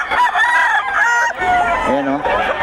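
Roosters crow repeatedly among gamefowl at a farm in Bocaue, loud and close, with overlapping calls and a hen's clucks mixed in. Someone talks in the background.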